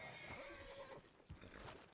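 Horses whinny in the Red Dead world of WildRP, hitched by a beach near a lighthouse: a clear neigh early on, then hoof clops and a second snort-like burst, all close and moderately loud.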